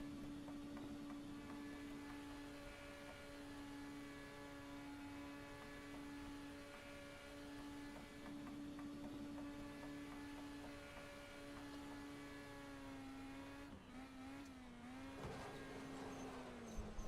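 A high-revving Mini Stock race car engine in the iRacing video game drones steadily with a buzzy, whining tone, shifting pitch near the end as it accelerates and strains.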